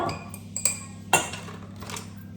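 Dishware clatter while a binding mixture goes onto cereals and puffed rice in a bowl: a few close clinks and knocks of a utensil against the bowl over a quiet kitchen hum.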